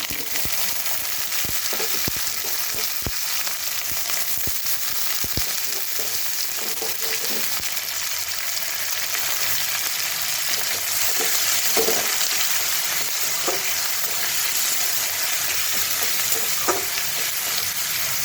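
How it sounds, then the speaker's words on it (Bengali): Finely chopped onions fry with spices in a pan while they are cooked for ghugni, giving a steady close sizzle with scattered stirring clicks and scrapes and no voices. "পেঁয়াজটা ভাজা হয়, এই মশলাগুলো করে নিয়ে।"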